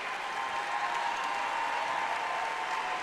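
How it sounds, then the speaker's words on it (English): Crowd noise fills an arena during a college basketball game between North Carolina State and Davidson, a steady roar of fans with a faint tonal hum running underneath, consistent throughout. "There's a great crowd on hand, and right now Koenig hearing it from the fans"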